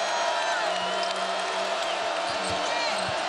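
A basketball arena crowd roars in a sustained wash of cheering at a Louisville vs Florida State game, with sneaker squeaks and ball bounces, under a commentator's voice.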